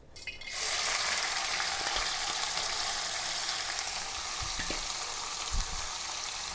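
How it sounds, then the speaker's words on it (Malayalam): Steady, loud sizzling of onion, shallots, crushed ginger, garlic and green chillies frying in hot oil, a continuous crackling hiss with a few soft clanks near the end. "എണ്ണ കാഞ്ഞിട്ടുണ്ട് ഇതിലേക്ക് ഉള്ളി സവാള ഇഞ്ചിയും വെളുത്തുള്ളിയും ചതച്ചത് പച്ചമുളക് ഇട്ട് കൊടുക്കാം"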